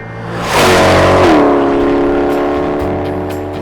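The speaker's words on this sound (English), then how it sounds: "So you get a little bit of blower whine, you get a little bit of blow-off valve, and obviously the upgraded stainless steel exhaust system." Supercharged C8 Corvette Stingray (Hennessey H700) with an upgraded stainless steel exhaust accelerating hard, engine roar swelling and a rising blower whine climbing in pitch, then holding as a loud, steady high-revving drone.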